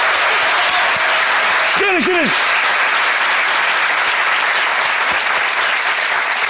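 Studio audience applause closes a Turkish talk show, a continuous wash of clapping throughout with a brief spoken farewell and a short whooping cheer rising over it near the middle.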